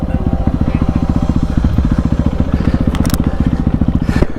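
A loud motorcycle engine revs hard nearby, its rapid pulsing exhaust beat running almost continuously with brief sharp bursts and scraping clatter layered over it.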